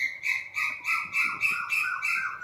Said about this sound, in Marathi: तर अशी असते पहाट पक्ष्यांच्या आवाजातली रोजच्या रोज